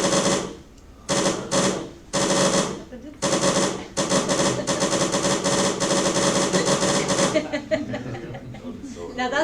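Bullets fire in a game still in development: loud bursts of rapid automatic gunfire in choppy bursts that merge into one long continuous stream, then fade out.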